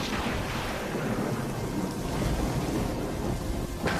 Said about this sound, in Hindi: तभी अचानक से जोर का तूफान आया और बारिश शुरू हो गई।